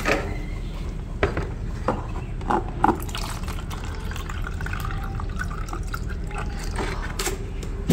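Water poured into a bowl of sand-and-cement texture mix, with close, irregular splashing, dripping and faint knocks of the container in a quiet room.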